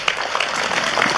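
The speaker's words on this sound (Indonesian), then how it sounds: "Tepuk tangan untuk 4G." A studio audience at an Indonesian religious talk show bursts into steady, dense applause, a continuous bright patter of many hands clapping at moderate loudness with no pause.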